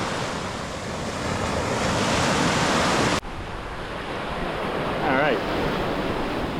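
Ocean surf washing up on the beach at Manasota Key, Florida, a steady loud roar of breaking and receding waves with wind buffeting the microphone, one brief cut partway through, no talk.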